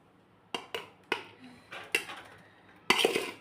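Cooked vegetable pulao is poured and scraped out of a metal pot, with a series of sharp clanks and scrapes of utensil against the pot, close and fairly quiet, ending in a longer rattling burst.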